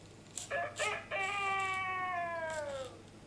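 A toy robot called EMO gives a synthetic imitation of a chicken: a few short squawks, then one long, wavering, tonal call that slides slowly downward. Close and fairly loud, with no talking.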